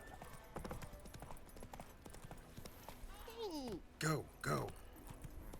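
Hooves of a horse in the video game The Witcher 3 clip-clop steadily under quiet game ambience, with a horse's whinny near the end while someone speaks briefly.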